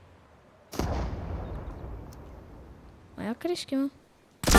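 A heavy blast of video game gunfire in Fortnite booms and decays into a long rumbling tail, a voice talks briefly, and another sharp shot cracks at the end.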